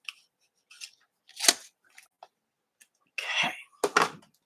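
Scissors snip off a small white spot during a crafting session, giving a few sharp, close cuts and rustles separated by quiet gaps.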